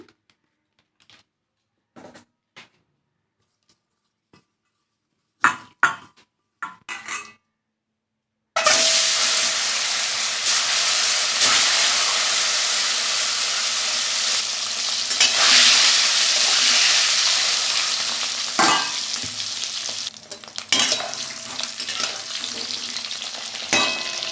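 Peeled boiled eggs frying in oil in a kadai with salt and turmeric, a loud, continuous close sizzle that starts abruptly after a few quiet taps and carries on with stirring clatter.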